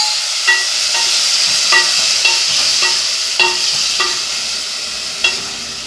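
Boiled vegetable pieces, likely potatoes, frying in a pan with a steady sizzle, broken by periodic sharp clinks of a utensil stirring against the metal, close up with no talk.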